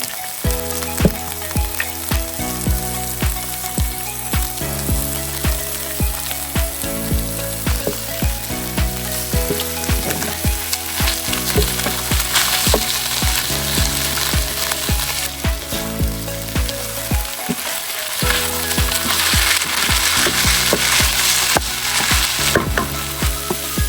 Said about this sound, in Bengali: আমি কিন্তু কেজি পেঁয়াজ আর তেল দিয়ে এটাকে ভাজছি, এর মধ্যে কোনো মশলা এখন দেইনি।